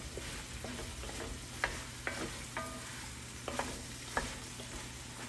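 Beets cooking in oil with onion for an Ethiopian dish, stirred with scattered scraping clicks of the utensil over a soft continuous sizzle, close and fairly quiet.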